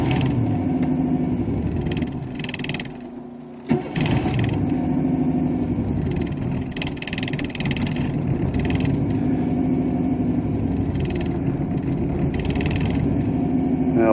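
A 1992 Chevy Camaro engine cranks and struggles to catch, then runs at a rough, uneven idle with a brief stumble partway through, heard close and steady with no talking.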